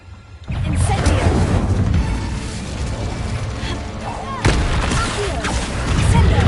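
Incendio fire spell cast in Hogwarts Legacy: a dense roaring, crackling blast of fiery bursts, loud and sustained after a short quiet start, with a fresh surge midway and a thick booming low rumble throughout.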